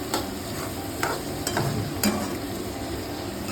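Chopped onions fry slowly over a low flame for methi bhaji, with a continuous close sizzle and several light spatula scrapes and taps spread across the pan.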